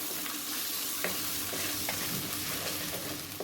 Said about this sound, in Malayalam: ഇതിലേക്ക് ഇനി ചതച്ച് വെച്ചിരിക്കുന്ന ഇഞ്ചിയും വെളുത്തുള്ളിയും കൂടി ഇട്ട് കൊടുക്കാം